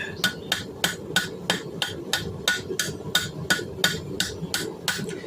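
Metal rings under repeated hammer blows as a bottle opener is forged, struck in a steady, even rhythm at close range, about two strikes per second.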